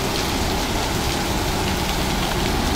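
Heavy rain pours down steadily in a dense, loud, unbroken hiss, with a faint low rumble beneath, on Kennon Road on the way to Baguio.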